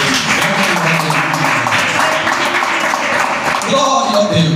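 Congregation in a church clapping hands steadily together in praise, a dense continuous patter filling the room, with voices and music-like tones rising underneath toward the end.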